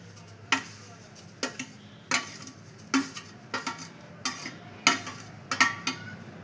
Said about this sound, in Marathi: त्याला चांगलं असं आपण ढवळून घेऊया.